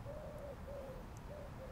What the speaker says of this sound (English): I think there's an owl over there.